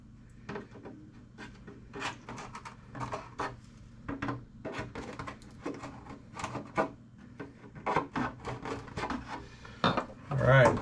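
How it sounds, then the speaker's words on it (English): Hand-held body reamer scraping back and forth on the plastic roof skid of a Traxxas XMAXX, a series of short, close rasping strokes in an irregular rhythm, with a clunk at the end. "I'm going to run the body reamer the other way just to get this surface smooth"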